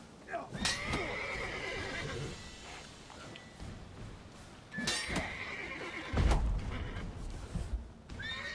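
Roach, a horse in The Witcher 3, whinnies loudly several times in bursts, with clip-clop hoofbeats and a voice talking in between.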